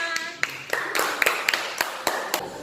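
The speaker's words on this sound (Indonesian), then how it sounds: "Oke, betul ya, tepuk tangan." A short burst of uneven hand clapping, a handful of sharp claps spaced irregularly over a couple of seconds.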